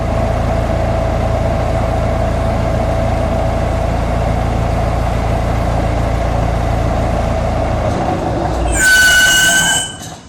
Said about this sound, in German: wie es klingt, wenn man versucht, bei gezogenen Bremsen mit einem Panzer vorwärts zu fahren